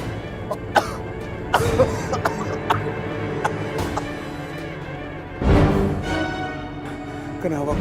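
A person coughing up blood in a horror drama scene: several sharp, strained coughs spaced through the scene, with a heavier fit near the end, all over a steady background music bed.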